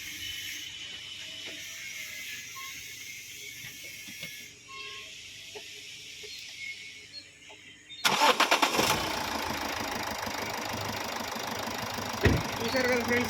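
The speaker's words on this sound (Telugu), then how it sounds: "సింగిల్ సెల్ఫ్లో స్టార్ట్ అయింది" A 2015 Toyota Etios GD diesel engine starting on a single crank after a quiet stretch, the starter whirring briefly before the engine catches into a loud, steady, clattering diesel idle.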